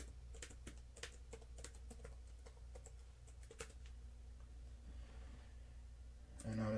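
Keys clatter on a computer keyboard as a git push command to delete a branch is entered, with irregular close clicks across the stretch and a louder burst of sound at the end.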